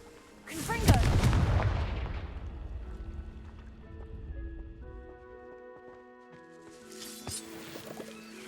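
A Confringo spell fired in Hogwarts Legacy, a loud fiery blast that booms and crackles for about a second, then trails off into a lingering rumble with bright magical chimes and a second shimmering burst near the end.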